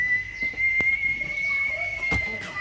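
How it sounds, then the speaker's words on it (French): A sharp whistle cuts through as a sustained steady tone across the whole stretch, with two brief loud knocks or thumps standing out along the way. "Un coup de sifflet"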